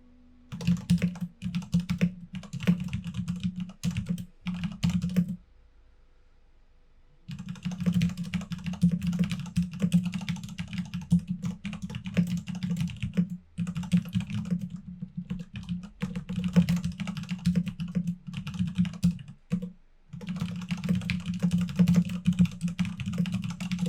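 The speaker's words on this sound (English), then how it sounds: "I'm going to type this part to you" Close, steady typing on a computer keyboard: dense runs of rapid key clicks broken by a few brief pauses, with no voices.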